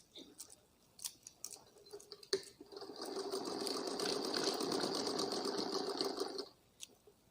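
A sewing machine stitches a round design on a girl's umbrella frock, one steady close run of about three and a half seconds after a few soft handling clicks.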